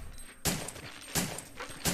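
Gunfire in the Resident Evil 3: Nemesis video game, three loud sharp shots spaced evenly about three-quarters of a second apart, each leaving a brief ringing tail, with no talking.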